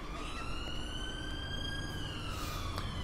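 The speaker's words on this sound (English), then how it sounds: "I hear some sirens." British Met Police sirens in the LCPDFR police driving game wail continuously, rising and falling at moderate distance without pause.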